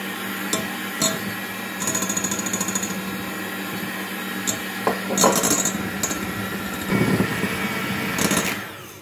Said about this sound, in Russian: Вот так каждый желток хорошенько взбивая с белками.